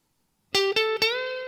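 An electric guitar plays a short lick from a solo: three quick picked or hammered notes, then one sustained, ringing note, played clearly and alone.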